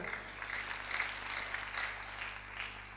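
Brief applause from a church congregation, a steady wash of clapping that swells slightly and stays fairly even, heard somewhat distant in a large room.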